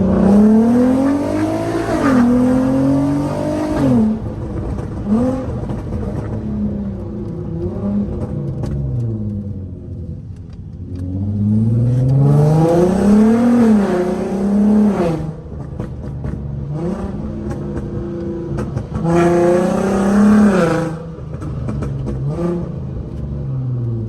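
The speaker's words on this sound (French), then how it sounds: "Allez, une petite dernière accélération" A car engine revs hard through three loud accelerating runs, its pitch climbing each time, with quieter dips between them and no talk.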